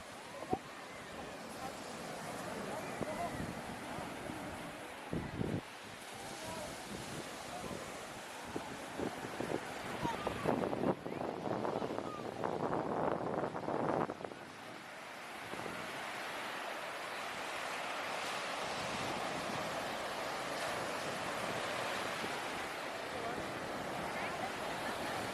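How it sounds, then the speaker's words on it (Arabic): Waves roll and wash onto a sandy beach on Egypt's North Coast while steady sea wind buffets the microphone, with brief gusty thumps partway through. "اسيبكم مع هوا البحر شوية"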